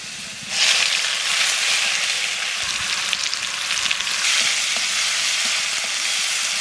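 Cloves, cinnamon, cardamom, garlic paste and onion paste frying in hot oil, a loud broadband sizzle that jumps up after half a second and holds steady with occasional spoon scrapes.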